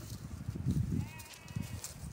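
Sheep in a grazing flock bleat out in the open, several low calls overlapping at close range against faint outdoor background.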